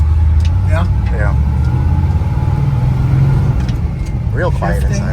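A 1963 Ford Galaxie 500 with a 427 dual-quad V8 and four-speed idles steadily outdoors as a loud, continuous low rumble, with people talking over it throughout.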